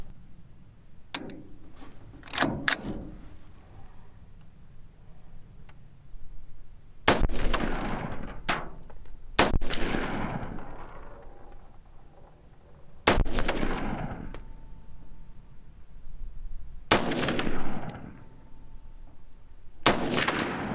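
Rifle shots from a budget 1-6x LPVO scope test ring out one at a time at uneven intervals, each sharp loud crack followed by a long rolling outdoor echo, with quiet between shots.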